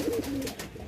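Pigeons cooing inside a loft in Vellore, with soft low throaty coos close by and a faint hiss of room noise behind them.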